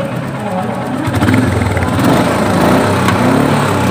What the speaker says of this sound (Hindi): चलिए एक बार हम बाइक को स्टार्ट करते हैं।